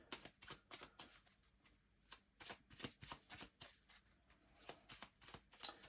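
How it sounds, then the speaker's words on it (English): Playing cards being shuffled by a casino croupier in quick riffling bursts, close up, with a steady crackling flutter and no talking. "So you would then shuffle these back out again."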